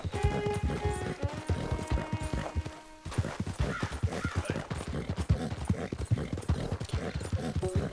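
Rapid rhythmic hoofbeats of a galloping horse in the video game Red Dead Redemption 2, close and steady, with a brief musical chime near the start.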